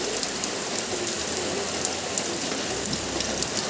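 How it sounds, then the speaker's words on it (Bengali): Heavy rain pours steadily, a dense continuous hiss of drops drumming on surfaces, loud and close throughout with no voices. "আমাদের এদিকে প্রচণ্ড বৃষ্টি হচ্ছে"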